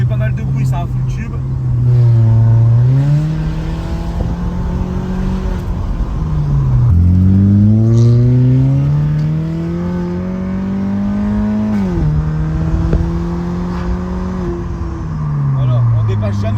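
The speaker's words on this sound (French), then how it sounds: "elle fait pas mal de bruit, c'est un full tube." A BMW 318ci E46 with a full straight-pipe exhaust, driving with a loud, raspy engine note rising and falling through several gear changes, heard from inside the car while people talk over it.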